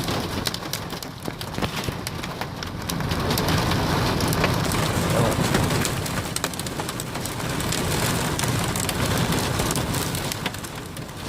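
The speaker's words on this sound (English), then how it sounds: "It's a full-on big rainstorm now. Heavy, heavy." Heavy rain pours on a van during a tornado storm, a dense, continuous close drumming and hiss with no talk.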